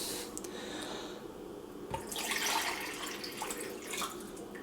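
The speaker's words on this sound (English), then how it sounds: "I'm going to put in approximately 12 ounces of water and filling it right up to that" About 12 ounces of water pours in a steady, splashy stream into a Mr. Coffee coffee maker reservoir, with faint trickling and dripping throughout.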